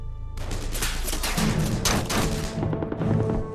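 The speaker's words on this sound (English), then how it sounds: "Lee is awoken by the sound of gunfire." Dramatised gunfire from the 1945 attack on Castle Itter: dense bursts of shots and thuds over a low rumbling bed, loud and continuous, with no voices.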